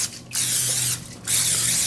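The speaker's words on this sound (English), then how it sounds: "I'm going to take this butter flavored no stick spray and spray the pan pretty good" A can of butter-flavored non-stick cooking spray hisses onto a baking pan in two bursts of a few tenths of a second each, close and clear, with a short pause between them.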